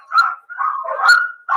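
A recorded dog barking, played back during an animal welfare talk: a few short yelping barks and whimpery calls in quick succession, fairly close and clear, with no talking over them.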